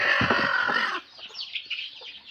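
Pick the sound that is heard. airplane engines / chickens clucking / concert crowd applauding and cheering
chickens clucking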